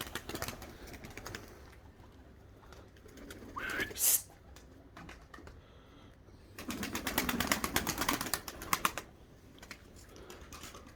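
Pigeons coo softly in a coop, with rustling and clattering noises and a louder burst of fluttering partway through.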